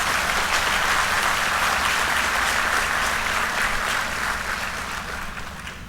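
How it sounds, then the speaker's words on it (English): Large convocation assembly at the PJTSAU 6th Convocation applauding the Chancellor, sustained dense clapping throughout that gradually tapers toward the end, with a low steady hum underneath. "Can I request this august assembly to give a loud round of applause to our"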